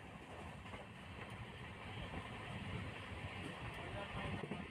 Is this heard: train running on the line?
yes